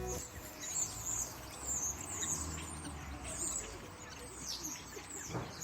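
A small bird known for mimicking other sounds, calling in a garden: bright, high chirps and twittering phrases repeat at a steady pace over low background noise, faint and somewhat distant.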